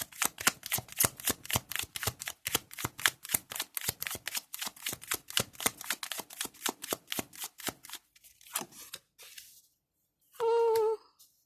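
Tarot cards being shuffled in a rapid, even riffle of crisp snaps for about eight seconds, followed by a few softer slides and taps of the deck, then a short tonal beep near the end.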